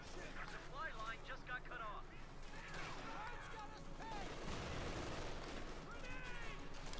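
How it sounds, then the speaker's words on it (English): Artillery shells pound a house in the Company of Heroes 2 battle, a continuous din of booming impacts and crackling gunfire, with someone talking over it throughout. "You're bombarding your own house!"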